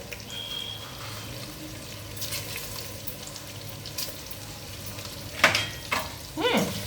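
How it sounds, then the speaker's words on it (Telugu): A steady low bubbling and simmering hiss of water boiling in a pot with turmeric and salt, with a few louder clatters and splashes near the end. "ఇప్పుడు వాటర్ మరుగుతుందండి"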